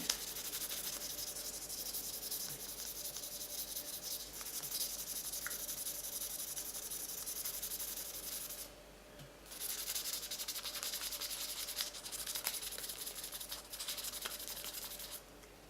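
Steady close rubbing of 300 grit sandpaper across a brass ceremonial belt buckle, continuous rasping strokes with a short pause midway, no speech.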